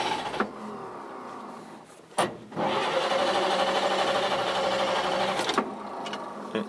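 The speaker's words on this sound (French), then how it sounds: "on va l'entendre tourner un petit peu, donc position, point mort, contact, et démarrage donc là-bas au pied." A 1952 Chevy 3100 five-window truck cranks with a brief starter burst, then its engine catches and runs at a steady idle, moderately loud and close, before another short burst near the end.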